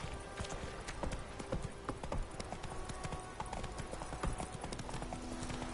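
Roach, a horse in a PS4 video game, gallops with rapid rhythmic hoofbeats clip-clopping steadily and fairly close throughout.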